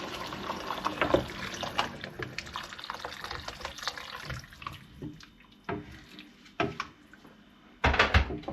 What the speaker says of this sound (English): Now we need to add hot water.